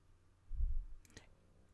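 Faint, quiet mouse clicks on a computer desk, a soft thump followed by a couple of short, crisp clicks close by, alone without any talk.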